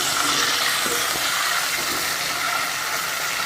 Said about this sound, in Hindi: इस तरह से पानी डालेंगे